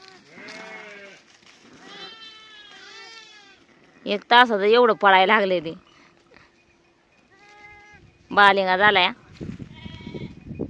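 Sheep and goats in a Dhangar herd bleat loudly nearby in several long quavering calls, separated by quieter stretches where someone talks and fainter bleats sound in the background.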